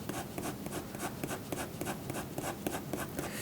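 A pencil shades black hair on paper for a realistic portrait, making close, rhythmic scratchy strokes in a steady back-and-forth pattern.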